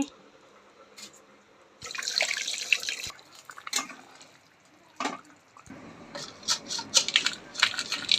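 Hot water poured into a pan of Bengali fish curry with potatoes: a loud splashing, sizzling rush lasting about a second, then quieter bubbling and clattering kitchen sounds.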